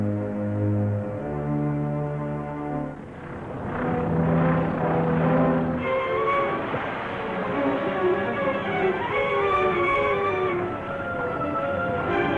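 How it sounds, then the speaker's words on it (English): An airplane approaches in a 1945 serial, its propeller engine droning with a rising, layered tone that grows louder and busier after a few seconds, mixed with dramatic music and no speech. "Have picked up an approaching plane."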